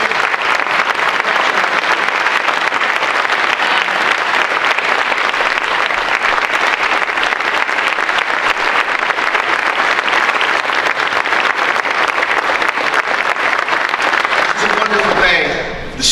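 Sustained audience applause at a city council gathering celebrating a $10M downtown revitalization grant, steady dense clapping filling the room for about fifteen seconds before fading out at the end.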